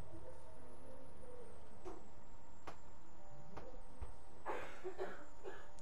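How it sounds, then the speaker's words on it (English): A semi truck's Jake brake in Farming Simulator 19, a steady mechanical engine rumble with sharp hissing bursts and clacks near the end, heard up close with no talking. "Oh, listen to that Jake break."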